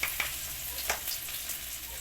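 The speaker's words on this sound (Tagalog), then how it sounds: "gigisa na po natin. Natin tong luya." Ginger sautéed in a pan for dinakdakang pato (duck dish) gives a steady, close frying sizzle with a few small crackles and no talk over it.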